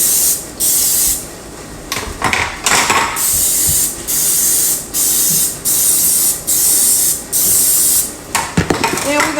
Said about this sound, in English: so we spraying our pan